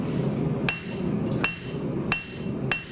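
A hammer strikes an anvil of cast 4140 steel four times at a steady, unhurried pace, each blow a bright ringing clink that decays quickly over a low background hum.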